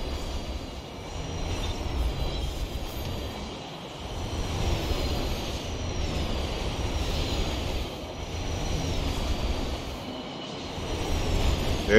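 Trains rumble past in the video game Destiny 2, a steady broad roar with faint high whining tones that swells and eases over several seconds, with no talking.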